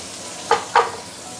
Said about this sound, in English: now we can actually put in the noodles